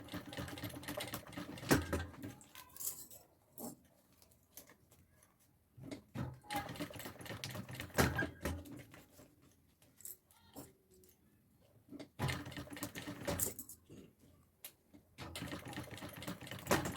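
A sewing machine stitches a zipper onto an executive bag, running in several bursts of rapid, close mechanical clatter separated by brief quiet pauses.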